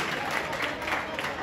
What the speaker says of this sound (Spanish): un fuerte aplauso, muchachos, que se escuche